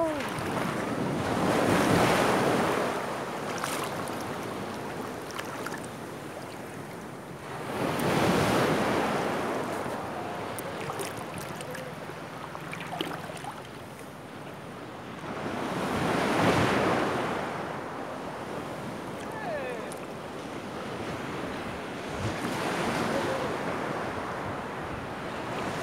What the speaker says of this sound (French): Et profite du bruit des mers, du bruit des vagues.